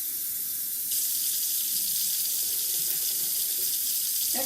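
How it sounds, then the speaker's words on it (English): A can of water pours into a pot of oxtail soup in a steady, close, gushing stream that gets a little brighter partway through and carries on to the end, with no speech. "So I'm actually adding a full can of water."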